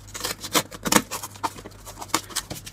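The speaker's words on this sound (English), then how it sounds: "I may have to get some bigger scissors" Scissors snip through thick cardboard in a series of irregular, close crunching cuts, each a short broadband burst, with a low steady hum underneath.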